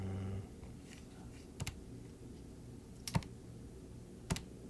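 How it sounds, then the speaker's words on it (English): Keys tapped on a Casio calculator keypad, with a few separate sharp clicks spaced seconds apart over a quiet room background, close by and with no speech. "As you can hear, I'm making a mistake in my typing, and I got an error."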